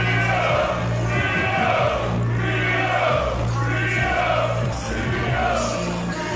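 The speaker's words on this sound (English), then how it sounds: "Crowd doing the cheering there." Wrestling match crowd cheering and chanting in rhythmic waves, loud and close, with repeated swelling shouts over a steady hum of the arena.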